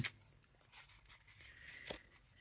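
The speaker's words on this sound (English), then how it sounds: "These scissors really, truly do cut all the way to the end." Quiet, close-up snipping of scissors slicing through paper, a few soft crisp cuts with light rustling.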